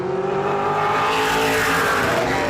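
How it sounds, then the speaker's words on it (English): Race cars roar around a speedway during time trials, a loud sustained engine howl with rising and falling pitch as the cars pass, no talk over it. "If you are finding these cars to be a little bit loud,"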